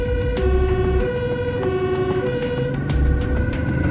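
An ambulance in Amsterdam rush-hour traffic blares its two-tone siren close by, the wailing alternating pitches steady and loud over a rumbling road and engine background.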